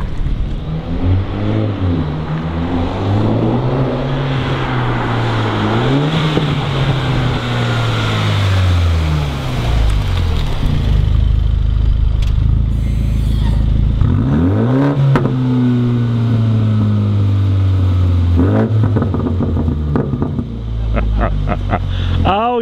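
A Mini JCW Clubman fitted with a Remus race exhaust revs repeatedly in a workshop, its loud engine note climbing and falling several times, while people talk and react over it.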